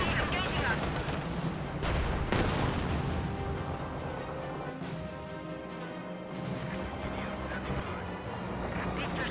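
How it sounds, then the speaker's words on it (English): Mortar shells land in a Company of Heroes 2 battle, with booming impacts and crackling gunfire over a constant rumble of combat. A commentator talks over the noise. "Many mortar hits there."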